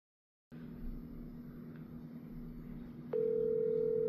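An outgoing phone call connects with faint line noise, then a steady electronic ringback tone sounds alone and continues without an answer.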